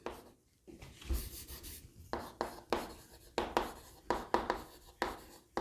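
Marker or chalk strokes on a board during a class lesson, a rapid series of short scratchy rubs in a steady rhythm, close and moderately quiet with no talking.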